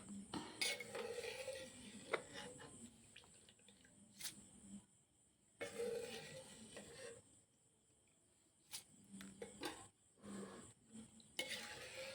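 A spiced oil tempering is spooned into curry leaf pickle and stirred, with a metal spoon clinking and scraping against the vessel in short bursts separated by quieter pauses.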